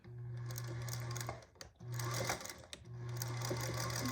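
A sewing machine stitches bias binding in three steady, close bursts of motor whir, separated by short pauses as the fabric is held and repositioned.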